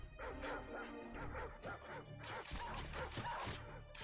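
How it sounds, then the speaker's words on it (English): A dog barks repeatedly in Call of Duty: Modern Warfare 2, with sharp yips and bow-wows over busy game sounds, fairly loud and close throughout. "The hell is that barking thing?"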